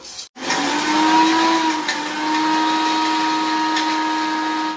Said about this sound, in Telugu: ఒక జార్ తీసుకొని మిక్సీ జార్లో వేసేసుకొని ఇవి ఒక్కసారి తిప్పిన తర్వాత